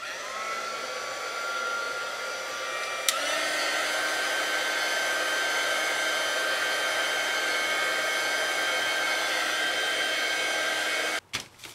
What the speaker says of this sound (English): I speed it up with a heat gun.